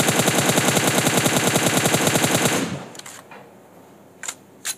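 Rapid automatic gunfire in the mobile battle royale game PUBG Mobile, a fast even burst of shots for under three seconds that cuts off abruptly, followed by quiet and two sharp isolated clicks.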